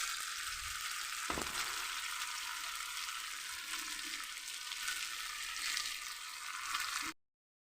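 Ghatkol leaf paste frying in hot oil makes a continuous soft sizzle and hiss with a faint stirring scrape, running evenly until it cuts off abruptly near the end.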